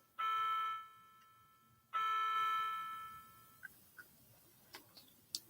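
Two resonant chime tones ring out from a clock, each bright strike slowly decaying, followed by a few faint ticks and small clicks in a quiet room.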